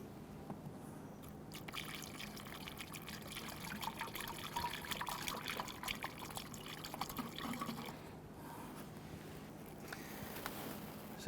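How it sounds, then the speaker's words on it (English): Antifreeze poured from a clean funnel into the coolant reservoir of a 2011-2023 Dodge Charger 3.6L V6, a faint continuous trickle and gurgle of liquid running for several seconds with small splashes. "Go ahead and place in a clean funnel and use the appropriate antifreeze recommended for the vehicle."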